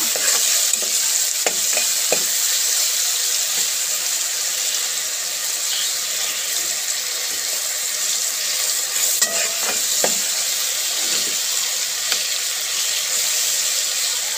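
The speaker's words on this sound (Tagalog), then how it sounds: "Lagyan tayo ng mantika, guys. Gisa natin yung tilapia para mawala yung lansa." Tilapia sautéing in hot cooking oil in a pan, a steady bright sizzle and crackle running throughout with a few sharp pops and the occasional scrape of a stirring utensil, close and continuous.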